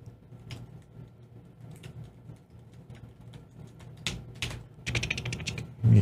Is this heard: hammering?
no